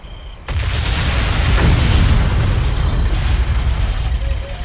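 A loud explosion in the video game Mafia, a sudden blast that settles into a sustained, rumbling roar with crackling debris for several seconds, close and with no talk over it.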